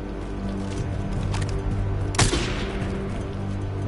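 Gunfire from the video game GTA V, a burst of shots around the middle over a steady dense game soundscape with background rumble, fairly loud and continuous.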